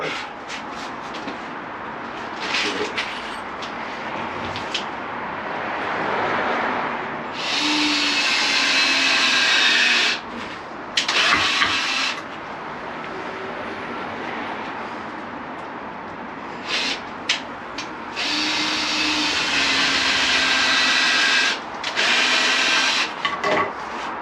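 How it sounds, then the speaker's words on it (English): Cordless power screwdriver pre-driving screws into garage storage boards, several loud close bursts of whirring separated by short pauses and handling noise. "Okay, so I'm going to pre-screw these first."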